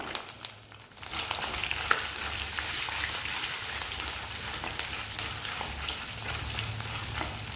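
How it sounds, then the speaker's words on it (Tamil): Onions sizzle steadily in hot oil with curry leaves and dried turkey berries for a tamarind kuzhambu, a dense continuous frying hiss after a quieter first second, with occasional stirring ticks. "எடுத்து வச்சுருக்கிற வெங்காயத்தை சேர்த்துக்கிடணும்."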